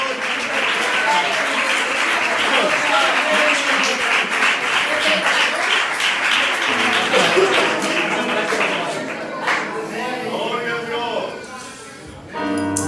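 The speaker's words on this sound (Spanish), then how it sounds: "aplauso al Señor" Applause from a church congregation, dense clapping for most of the stretch that thins out, then gives way to a voice speaking near the end.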